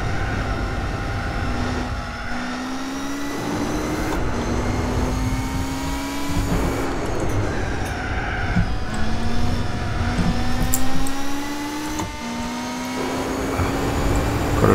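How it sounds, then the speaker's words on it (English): Racing car engines in Gran Turismo 4 rev loudly and steadily, with rising and falling pitch sweeps and gear changes through the whole stretch, and no talk over them. "These are some really fun cars to be driving around."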